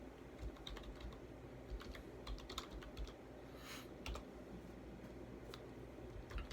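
Computer keyboard typing at a desk, a steady run of quiet key clicks with occasional louder strokes over a low background hum.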